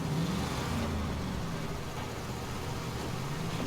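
BM17 truck engine in a video game set in North Port, a steady, continuous drone of a running heavy engine with a slight rise in revs near the start, close and fairly loud throughout.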